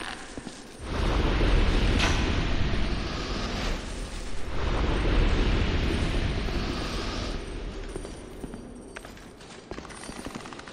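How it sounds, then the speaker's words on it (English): An exploding mummy in Dark Souls 2 erupts in a heavy rumbling blast, followed by a long, loud roar of crackling debris that slowly thins out with a few later thumps. "Exploding mummy?"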